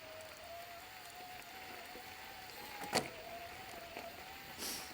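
A Shimano EP801 e-bike motor running in Eco mode gives a faint, steady electric whine under outdoor ambience, with a brief clack partway through.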